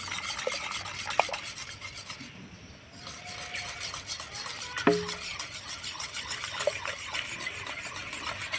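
Ripe mango paste being mixed with a hand whisk for mango ice cream: a continuous soft scraping and stirring rasp with a few light clinks, fairly quiet and heard alone.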